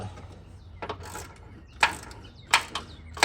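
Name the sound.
tightening a nut with a ratchet wrench on an alternator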